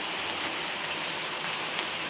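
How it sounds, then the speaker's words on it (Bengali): Steady rain falling, a constant broadband hiss with faint patter, loud and continuous throughout. "এখনও বৃষ্টি হয়েই যাচ্ছে হয়েই যাচ্ছে বৃষ্টি"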